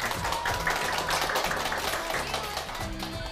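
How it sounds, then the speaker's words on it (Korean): Audience applause following a motivational lecture by a serial entrepreneur at a Korean lecture show, sustained dense clapping filling the hall throughout at steady loudness, with a low musical or crowd background underneath. "박수 부탁드립니다"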